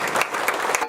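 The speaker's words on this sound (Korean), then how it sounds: "박수로 환영하겠습니다." Church audience applauding to welcome people, a dense burst of clapping filling the whole second, fairly loud and close.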